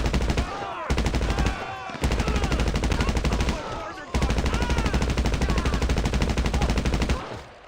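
Rapid automatic gunfire in GTA 5 Online as a magazine is emptied, loud sustained bursts of rattling shots separated by short pauses.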